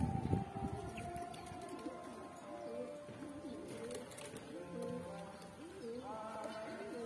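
Several pigeons coo close by in soft, rolling, repeated calls that overlap one another against a quiet background.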